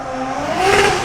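A drift car's engine revs up briefly nearby, rising in pitch and loudness, heard alone without talk.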